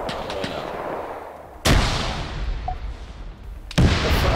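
Two loud, sudden blasts from a grenade explosion in the WWII-era Arma 3 video game, each followed by a long rumbling tail, set against a steady bed of distant battlefield noise.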